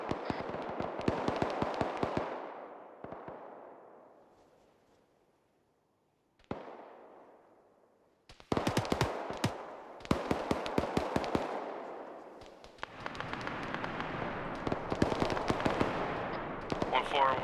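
Automatic gunfire and explosions ring out in a large-scale Arma mod battle near an airfield, coming in loud bursts and rapid cracking volleys, with quieter decaying gaps and radio-style voices talking between the shots.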